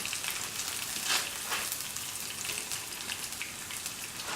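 Onions with green chilies and dried red chilies frying in a pan give a steady, close, even sizzle with fine crackling throughout and no talking.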